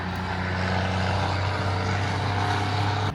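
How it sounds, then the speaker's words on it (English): A loud truck passing close by outdoors, a heavy low engine rumble holding steady and then cutting off abruptly. "Oh my gosh, that truck is so loud."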